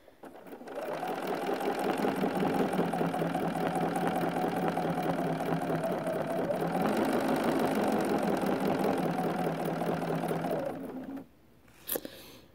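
A quilting sewing machine runs a steady stitching pass along a ruler, a continuous close whirring hum with a slight rise in pace before it stops, followed by a short click.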